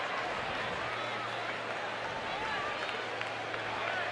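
Ballpark crowd at a San Francisco baseball game roaring and applauding a triple, a dense, steady wash of cheers and clapping with distant voices mixed in, sustained throughout.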